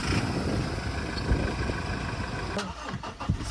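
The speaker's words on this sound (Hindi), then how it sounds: "एक बार कार को मैं स्टार्ट करता हूँ।" Toyota Innova Crysta diesel engine cranking and settling into a steady idle, a continuous low rumble throughout with a brief rise in activity near the end, heard close up.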